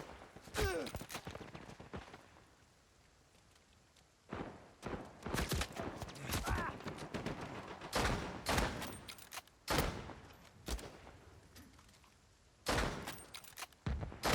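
Gunfire in Uncharted 4 multiplayer comes in sharp, loud bursts and rapid volleys separated by brief quieter gaps, with scattered single shots between clusters.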